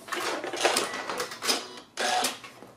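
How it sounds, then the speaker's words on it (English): Short bursts of a sewing machine back tacking and sewing off the end of a three-layer pleated fabric mask, three or four quick stitching spurts close by with brief pauses between. "You can back tack and then just sew off the other piece."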